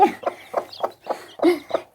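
A brooding hen sitting on eggs clucks in a steady run of short, repeated notes, close and clear, with no one talking.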